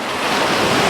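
Sea waves wash continuously onto the shore at a beach, a loud, steady broadband roar of surf with some wind noise and no voices.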